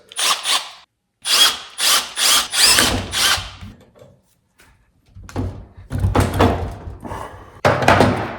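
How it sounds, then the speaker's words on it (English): A power drill whirs in several short, loud bursts with brief pauses between them, close up, as it bores a hole in a part of a Ford ZF6 transmission. "what I'm using is a drill and a large screw, and I'll just drill a hole in it"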